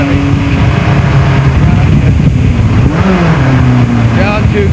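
A racing car engine revs hard and drops through gears on a circuit, its pitch stepping down and climbing again beneath steady road roar, with a person talking over it.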